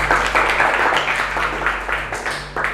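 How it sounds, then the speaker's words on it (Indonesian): A classroom group claps steadily for a student group after their presentation, with brisk, even applause filling the short stretch under a low steady hum. "Beri aplaus dulu untuk kelompok 1."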